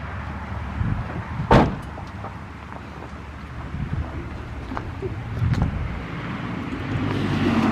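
A Mitsubishi Eclipse GSX engine rumbles steadily at a distance, with a sharp thump early on and the noise swelling slightly toward the end as the throttle sticks.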